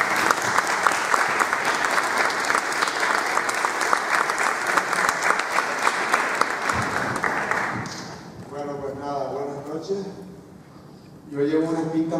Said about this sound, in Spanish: les pido un fuerte aplauso para recibir al homenajeado de la 10ª edición del Festival de La Palma